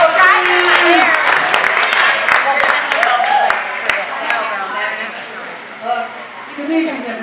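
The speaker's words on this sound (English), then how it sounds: "How about a nice round of applause for Steve, everybody?" Wedding reception guests clap in a steady crowd applause that runs the whole stretch, mixed with cheering voices and chatter, with a voice speaking over it toward the end.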